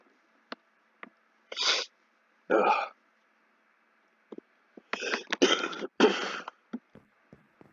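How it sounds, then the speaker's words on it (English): A couple of sharp, breathy sneezes burst out close by, followed by a cluster of sniffs, throat noises and small clicks. "I'm gonna sneeze."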